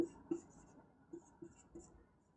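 Chalk or marker writing on a board during a physics lesson on pressure, a few quiet scratchy strokes and light taps in an otherwise hushed room.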